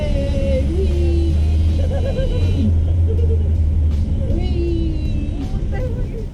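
Renault Twizy electric car driving, a steady low rumble of road and motion noise with a faint whine, while people talk and cheer excitedly inside the car throughout.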